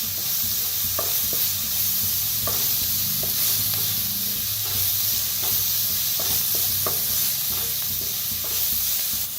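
Spices with asafoetida dry-roasting in a pan with very little oil, a steady soft sizzle and hiss with repeated light scrapes and taps of a spoon stirring, close and continuous, no talk.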